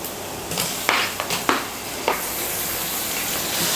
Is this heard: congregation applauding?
no